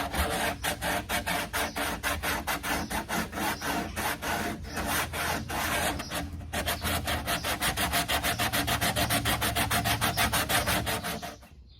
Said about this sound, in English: Then I'm going to take from a spindle sander some sanding paper